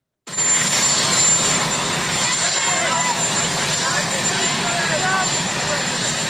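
An arriving airplane roars with a broad, steady engine rumble. It cuts in abruptly, stays loud and close, and holds for several seconds.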